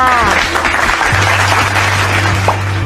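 Students clap for themselves during a primary-school science lesson, a short bright patter of applause mixed with voices and a sustained tone in the room.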